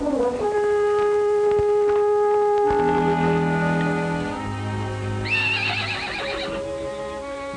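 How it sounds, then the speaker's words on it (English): A horse neighs out on open ranch country in a 1950 Western film, a long loud whinny that rises into shrill squealing peaks, with no voices. "It's your horse, standing out there as pretty as can be."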